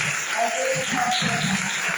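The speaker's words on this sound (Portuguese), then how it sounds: "As palmas é para agradecer em nome do Senhor Jesus." A church congregation claps in worship, a steady, full wash of hands with voices mixed in and a low murmur underneath.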